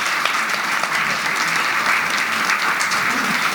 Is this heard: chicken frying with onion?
no